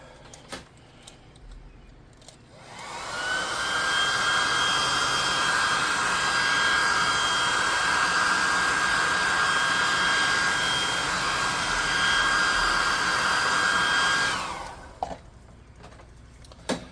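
A hair dryer blowing to dry paint on a tabletop roleplaying game model, switching on after a quiet start and running as a loud steady whine for about eleven seconds before cutting off.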